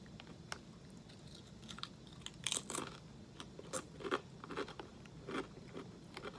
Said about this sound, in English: Crispy, crunchy tortilla chips.